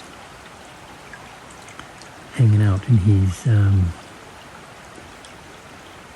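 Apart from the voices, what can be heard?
creek water flowing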